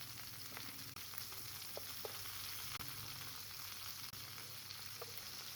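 Beef burger patties fry in a hot grill pan with a constant, crackling sizzle and occasional small pops. The sizzle is fairly quiet and heard alone.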